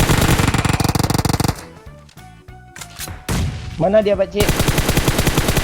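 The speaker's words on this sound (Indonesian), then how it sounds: "kedengeran dong suara tembakannya kayaknya" Automatic gunfire in the mobile battle game PUBG Mobile: loud rapid bursts at the start and end with scattered shots between, while a player speaks briefly in the middle.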